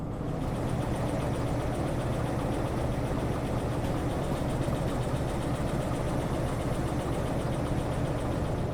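A locomotive engine in the train game Derail Valley drones steadily and loudly with a constant low rumble as the throttle is opened, alone with no talk.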